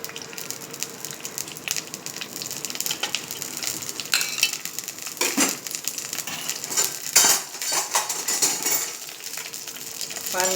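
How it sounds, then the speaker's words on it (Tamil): Fenugreek seeds, urad dal and curry leaves frying in hot oil in a pan, a steady close sizzle with crackling pops and spattering bursts over a few stirring clinks. "வெந்தயம் போட்டு நல்லா பொரிய விடுங்க. கறிவேப்பிலை போடுங்க."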